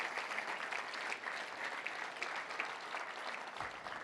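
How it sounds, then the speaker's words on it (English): Luncheon audience at a touchdown club meeting gives a round of applause for volunteers, steady many-handed clapping filling the room, moderately distant and faint, with no talk over it. "Let's give them all a round of applause if we can."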